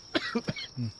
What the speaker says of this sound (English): Take a little honey for the cough.